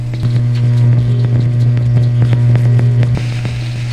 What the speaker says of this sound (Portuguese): Esse é o som do plasma.